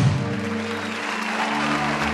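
A crowd outside a palace in a Mobile Legends hero story cheers and claps, a dense, loud wash of applause that starts strong and carries steadily throughout.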